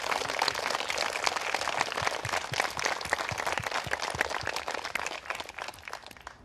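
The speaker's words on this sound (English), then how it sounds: "Can we give Sebastian a round of applause for thanking you" Steady applause from a crowd, dense continuous clapping that holds throughout and begins to fade toward the end.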